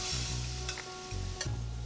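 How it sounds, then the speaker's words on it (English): Red wine hits a hot pan in a duck-breast dish, with a steady close sizzle and a few scraping strokes across the pan bottom, no voices. "Add about 1/2 cup of red wine to deglaze the pan, scraping any bits that may be stuck to the bottom."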